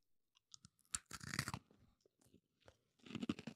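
Skittles candies crunch between teeth in a few sharp, close bursts with short pauses of quiet chewing between them, and no talk over the crunching.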